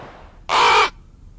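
A single crow's caw, loud, harsh and close, lasting about half a second and sounding alone in a quiet outdoor space.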